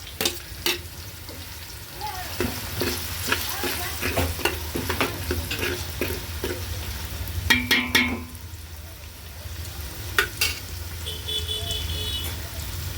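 Onion, ginger and chillies fry in a pan with a busy sizzle, broken by repeated sharp clicks and scrapes of a spoon stirring against the metal at an uneven rhythm.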